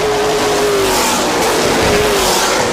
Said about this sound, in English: You hear the engines roar.